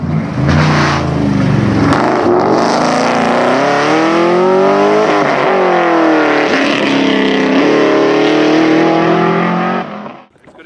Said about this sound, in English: Ben O'Brien has sorted the diesel problem with his BMW. He's put in a petrol V8.